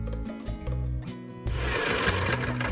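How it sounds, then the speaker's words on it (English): Three eggs are beaten in a bowl, first with a soft, uneven swishing and then as a steady, dense whirring rattle like a hand mixer, close and moderately quiet with no talking. "now I will beat the eggs until they're nice and"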